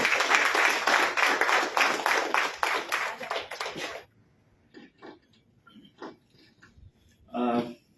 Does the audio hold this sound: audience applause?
yes